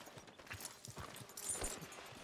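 Horse hooves clopping in Red Dead Redemption 2, a short run of soft, fairly close hoofbeats over a low ambient background.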